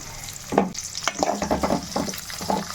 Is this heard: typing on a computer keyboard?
no